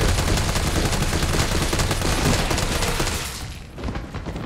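Sustained rapid gunfire in the Resident Evil 3 Remake, a dense loud burst of shots that fades out near the end.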